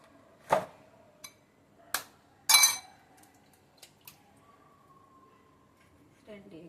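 Eggs are cracked and poured into a bowl for an omelette: a few sharp isolated taps and clinks against the bowl, then a short sloshing pour, close and quiet.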